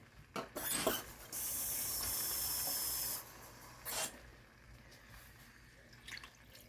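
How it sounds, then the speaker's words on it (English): Stock poured into a pot while cooking jollof rice, heard as a faint, steady hissing splash lasting about two seconds, with a few soft clinks and knocks before and after. "And I'll add another cup because I'm cooking 4 rice, 4 cups."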